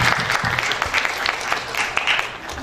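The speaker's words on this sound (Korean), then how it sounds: "여러분 큰 박수로 한번 환영해 주시면 대단히 감사하겠습니다." Audience applause welcoming a lecture at a wedding hall public seminar for engaged couples, a dense crowd clapping steadily and fairly loud with scattered sharper claps throughout, no talk over it.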